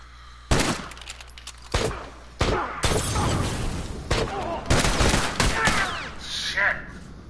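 Gunfire in a PS4 shooting video game, heard as several sharp, loud bursts of shots spread across the clip. Some shots come in quick strings, with faint game noise in the gaps and no talk over it.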